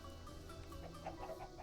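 Chicken clucking in the Minecraft video game, a few soft, short clucks spaced irregularly over faint ambient game sound, quiet and somewhat distant.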